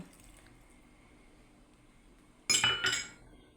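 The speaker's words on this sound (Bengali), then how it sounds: "ব্যাটারটাকে আবার ভালো করে মিশিয়ে নেব" A spoon whisks wheat-flour cake batter thinned with milk in a bowl, a quiet pause and then a brief, close burst of clinking and wet scraping.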